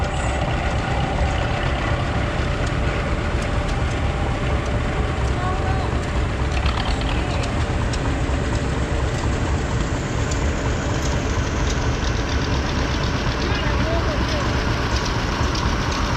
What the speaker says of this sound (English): John Deere Model 60 coming through next